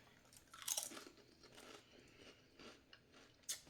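Someone bites and chews air-fried jalapeño Kettle brand potato chips close up, with a few sharp crunches and then softer chewing.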